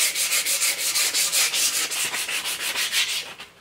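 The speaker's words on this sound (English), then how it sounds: "I'm just gonna start with some 100 grit sandpaper." A wooden axe handle is hand sanded with 100 grit sandpaper to strip off its varnish, making close, rhythmic back-and-forth scratching strokes, roughly four per second, with no talk.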